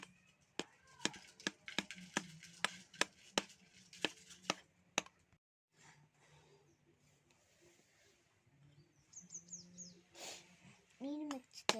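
Eggs are whisked in a bowl with a fork or spoon, giving a quick, regular series of sharp close clacks, then a pause, then softer stirring with a voice and bird chirps in the background.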